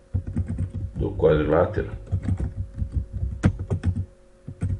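Keys tapped on a computer keyboard while entering text, with someone speaking over the clicking throughout.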